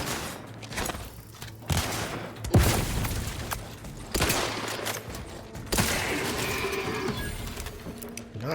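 Grenades burst in the game Outer Worlds 2 as a string of heavy booms, roughly five loud blasts spaced a second or two apart, each with a rumbling, crackling decay.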